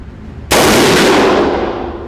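A single loud, sharp rifle shot from a PTR Industries G3 clone cracks out after a quiet moment and rings off in a long, broad decay.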